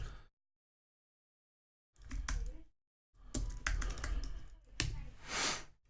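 Close computer keyboard typing while code is added to a file, arriving in quick bursts of dense clicks separated by short pauses.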